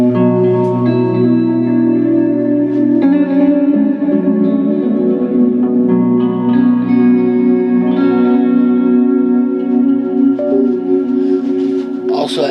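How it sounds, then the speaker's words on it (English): An electric guitar runs through fuzz, overdrive and distortion from a Line 6 HX Effects multi-effects pedal, producing loud, sustained, saturated chords and notes that ring continuously and are thick with harmonics. "fuzz and overdrive and distortion pedals."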